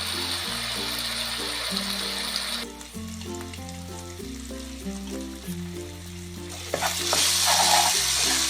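Ginger-garlic masala fries for chicken fry, a steady sizzle that comes and goes beneath background music with tonal notes, then swells into a louder hiss near the end.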